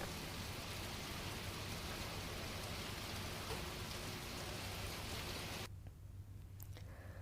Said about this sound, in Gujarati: માધુપુર અને ધાવા ગીરમાં વરસાદી ઝાપટા જોવા મળ્યા છે